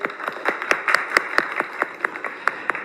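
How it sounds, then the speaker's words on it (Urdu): Studio audience at a Ramzan television transmission clapping, a sparse group of distinct, fairly close hand claps in an irregular rhythm rather than a dense roar. "ایک بار اپنے لیے سارے تالیاں بجائیں."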